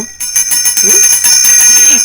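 A bright bell chime rings out as a notification sound effect, loud and clear, with sustained ringing tones that repeat over about two seconds with no talk.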